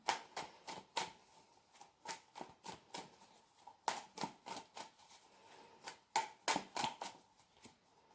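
Tarot cards being handled and drawn, a run of crisp, close papery flicks and slaps in irregular clusters, quiet with no talking.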